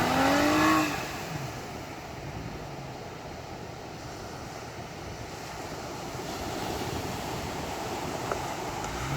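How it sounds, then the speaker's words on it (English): A Jeep with a V6 engine labours through coarse sand on Woolies Beach, its tyres let down to about 10 psi; a steady broadband roar blends with wind and surf, slightly louder at the start and swelling again near the end. "Even with the Jeep's tyres let down to about 10 pound, the mighty V6 still struggles with the coarse sand that we have here on Woolies Beach."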